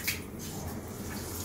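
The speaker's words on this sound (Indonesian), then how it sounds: "Showernya kenceng dan airnya panas." A strong hot shower runs in an apartment bathroom, a steady hissing spray of water close by with a brief splashy burst at the start.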